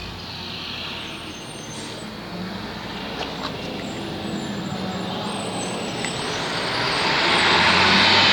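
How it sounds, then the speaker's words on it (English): Buses pass by outdoors on a cool, breezy, overcast day: a steady broadband traffic rumble and hiss with faint brief hisses, swelling louder toward the end as a vehicle draws near. "Excuse the buses."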